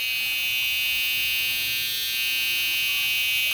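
A CoccoPro Veloce hair trimmer running steadily on its own, a continuous high-pitched electric buzz at even volume with a faint motor hum beneath, no voices.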